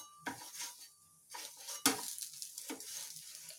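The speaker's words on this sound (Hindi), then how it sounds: "फिर ये जो हमने रोटी पहले से बना के रखी है, इसको हम पहले दोनों तरफ से सेक लेंगे।" Roti being toasted in a hot pan with oil, with faint sizzling and a few sharp clinks and scrapes of a utensil against the pan, spaced apart and close by.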